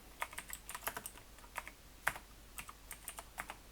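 Quiet, steady typing on a computer keyboard while writing code, a fast irregular run of light key clicks with one slightly louder keystroke, no talking.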